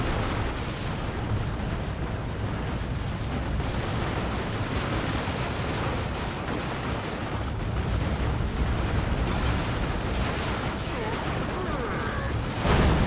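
Continuous rumbling barrage of explosions and gunfire from a rocket run striking a Baneblade super-heavy tank in the Dawn of War 2: Retribution strategy game, a steady roaring wash of blasts throughout with voices talking over it.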